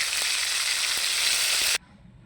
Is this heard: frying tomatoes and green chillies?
yes